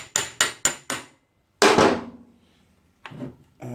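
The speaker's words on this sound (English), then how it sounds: "now we can tap through the wheel spindle" Four sharp, evenly spaced hammer taps ring out on the rear wheel spindle of a Suzuki GSXR750 motorcycle, followed after a pause by a louder metallic knock and a fainter clunk as the spindle is driven through during a brake disc job.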